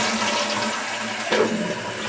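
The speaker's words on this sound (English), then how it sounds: "I'm going to have to give it a flush, and I'm not even going to let it flush all the way." A toilet flushing in a rush of water during a Fluidmaster fill valve install, a steady loud gurgling wash close by with a brief clunk near the end, no voices.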